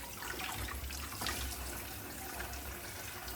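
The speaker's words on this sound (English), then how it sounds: "So yeah, please wash your fruits." Strawberries rinsed under a running kitchen tap in Kampala: a steady, soft, close rush of water with faint splashing, no voices.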